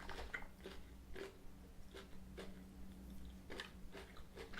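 Close, quiet chewing and crunching of Asda Belgian milk, dark mint and orange chocolate curls, with soft rhythmic bites repeating every half second or so.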